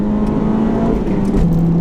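A Renault Clio III RS Red Bull Edition hot hatch pulls hard in third gear, its engine a loud, steady drone heard from inside the cabin for the whole stretch, with no talking.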